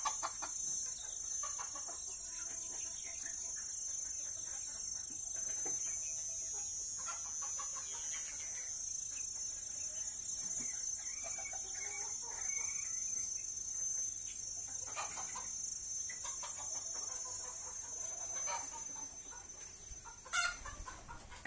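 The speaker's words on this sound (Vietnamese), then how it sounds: "Đây là mấy con gà lớn à." American Sil bantam chickens in a dim coop cluck steadily throughout, with occasional roosters crowing and a constant high insect-like drone behind them, with no talking.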